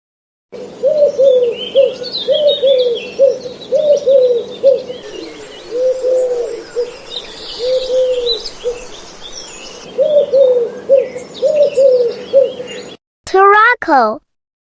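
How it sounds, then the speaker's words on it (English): Doves coo in repeated soft, rounded phrases with a steady rhythm, close and clear, mixed with lighter chirps and tweets from other birds. A brief, different call ends the sequence. "Doves."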